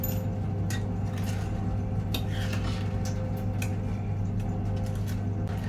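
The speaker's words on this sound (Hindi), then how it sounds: "पहले अच्छी तरह से मैं इसको चम्मच से मिला लेती हूँ" A spoon mixes a sugar-based sweet chutney in a pot, sending light clinks and scrapes over a loud, steady low hum that fills the background.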